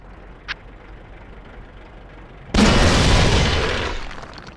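After a quiet stretch, one sudden loud blast from a tank cannon in World of Tanks clan-wars battle bursts out and rolls off in a long, fading rumble.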